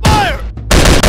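Video game gunfire in a kill-all-enemies mission: a quick burst of loud, sharp shots with a ringing whine between them, packed into about a second.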